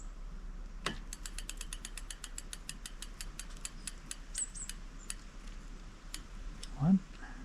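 Bolts being undone on a Brompton bicycle chainring, a run of quick metallic ratchet clicks from a wrench, close and fairly faint, with a brief knock near the end.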